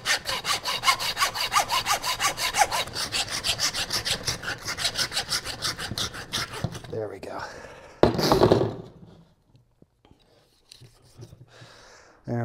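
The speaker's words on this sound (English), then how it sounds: "we'll use the saw" A hand saw cuts through a pig's leg bone during butchering with a steady, rhythmic back-and-forth rasp, close and loud. The sawing stops partway through, followed by a sharp knock and quiet handling noises.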